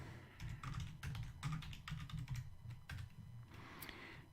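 Rapid keystrokes on a computer keyboard while working in an Arch Linux install, an irregular burst of close, crisp clicks with brief pauses, alone without speech.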